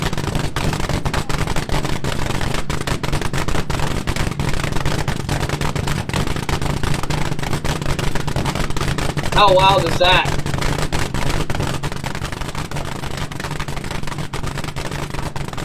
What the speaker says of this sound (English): this is an alcohol-burning old dragster, but when he puts in the nitromethane, just listen to how the tone changes of this motor